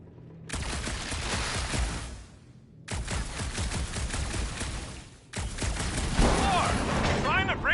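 Gunfire in Marvel's Guardians of the Galaxy rattles in three long dense bursts of rapid shots with crashing impacts, loud and close, broken by brief gaps, with chirping effects near the end.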